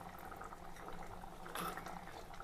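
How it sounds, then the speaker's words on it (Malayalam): Fish curry simmering in a pot for about ten minutes as its gravy thickens, giving a quiet, steady bubbling hiss with scattered soft pops and no talk. "ഇപ്പം തിളച്ചിട്ട് ഒരു 10 മിനിറ്റ് കഴിഞ്ഞിട്ടുണ്ട്"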